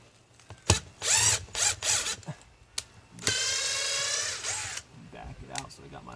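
Cordless drill driving screws into a wall while mounting a solar security light, with several short whirring bursts and then one longer sustained run up close, separated by brief pauses and handling clicks.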